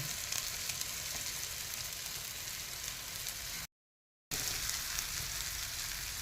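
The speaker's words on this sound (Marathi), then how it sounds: "नंतर दाण्याचं वाटण टाकून छान परतून घ्या." Peanut paste sizzles and fries in a pan with chilli powder for a pigeon pea chutney, a continuous close hiss with a short silent break midway.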